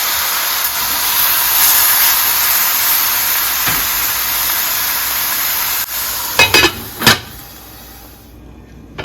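Vegetable oil heating in a pan over medium-high heat for beef stew, a steady close hiss and sizzle running throughout, with a few clattering knocks near the end and no speech.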